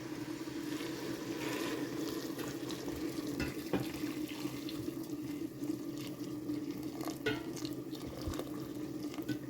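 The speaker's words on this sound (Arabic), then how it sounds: "عندي هنا الماء طيب غنروي." Water pours steadily into a cooking pot of vegetables for a Turkish red lentil soup, a continuous splashing gurgle heard close up with occasional small knocks.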